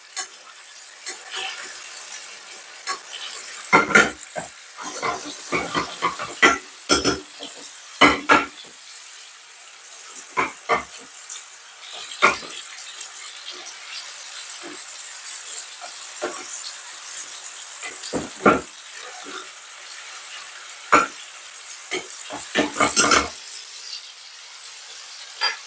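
Caramelized apples and walnuts being basted in a hot pan crackle with steady high sizzling, broken by repeated sharp scrapes and clinks of a spoon against the pan, no voices.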